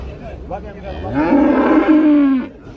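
A three-year-old Holstein cow moos at the Bergama livestock market, giving one long, loud, close low bellow that swells and holds for over a second before fading, set against faint market background noise.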